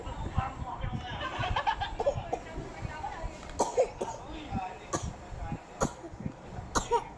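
A child coughs in several short, sharp bursts, spaced apart, mixed with nearby voices and background chatter.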